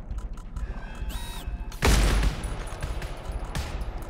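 A Hel Rifle fires a single heavy, booming shot in the game GTFO, followed by a rumbling tail and mechanical clanks, over a steady droning game ambience.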